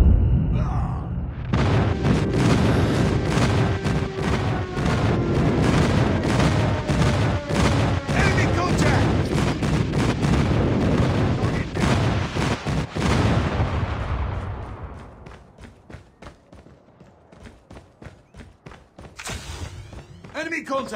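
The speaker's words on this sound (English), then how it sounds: "Friendly airstrike incoming." Friendly airstrike in a team deathmatch shooter, a dense, rapid barrage of loud explosions and blasts for about thirteen seconds that then fades to scattered shots, with game voice callouts mixed in.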